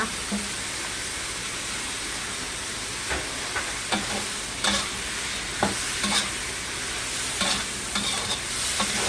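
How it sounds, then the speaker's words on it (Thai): Sweet and sour seafood with pineapple and onion being stir-fried in a pan, a steady broadband sizzle with repeated scraping and tossing clicks from the spatula at irregular intervals, close and fairly loud, with no talking. "แล้วก็ผัดให้เข้ากันอีกสักครั้งนึงนะคะ"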